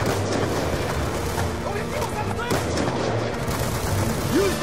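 Gunfire in the video game Call of Duty Black Ops 2 during a firefight mission: a continuous, dense layer of shots and distant booms under shouted voices and battle chatter.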